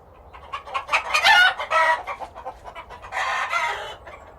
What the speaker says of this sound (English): Let's go and see the hens.